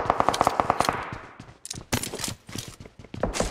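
Gunfire in the mobile battle royale game PUBG Mobile, a rapid burst of sharp repeated shots up front followed by scattered heavier blasts, loud and close, with no talk over it.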